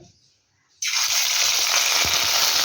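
Onion paste hits hot mustard oil in a pan, and the near-silence gives way at once to a loud, steady sizzle that keeps up close and even, with faint scraping beneath it.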